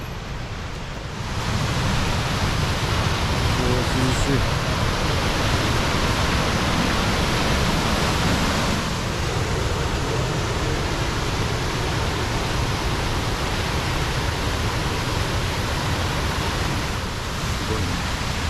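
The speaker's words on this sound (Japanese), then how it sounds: "滝があった。" Waterfall beside a hiking trail in the Oku-Kinu mountains near Nikko, Japan: a loud, steady, broad rushing roar that fills the whole scene, with a brief spoken exclamation near the start.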